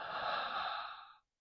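A single deep breath drawn in during a breathing exercise, a smooth, airy, fairly close inhale lasting about a second before falling silent.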